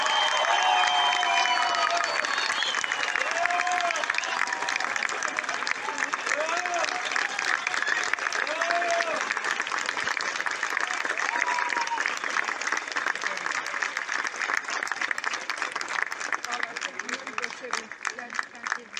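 Sustained audience applause fills the room as a folklore association president is invited onstage at a population-exchange centenary commemoration in Ayvalık, steady and dense throughout with a few voices calling out over the clapping.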